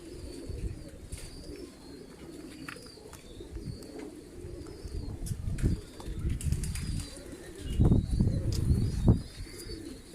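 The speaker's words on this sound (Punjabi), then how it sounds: "ਇਹ ਜੀ ਸਾਡਾ ਛੱਤ ਵਾਲਾ ਕਬੂਤਰ ਹੈ" Rooftop pigeons coo softly in low throaty bursts while wings flap in short flurries, close by, with light rustling between calls.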